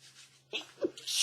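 A single sharp human sneeze bursts out close and loud after a short breathy intake, preceded by quiet breathing.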